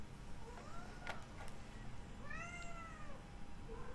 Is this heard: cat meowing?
yes